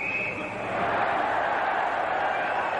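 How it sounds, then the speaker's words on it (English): Ice hockey crowd roaring in the arena at the 1991 Spengler Cup final between Central Red Army and Lugano, a dense sustained roar that swells after the first half second and holds loud to the end. "The crowd roars."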